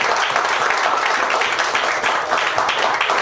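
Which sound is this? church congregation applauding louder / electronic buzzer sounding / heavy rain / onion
church congregation applauding louder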